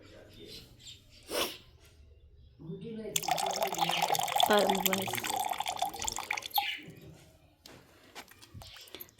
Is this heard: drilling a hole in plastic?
no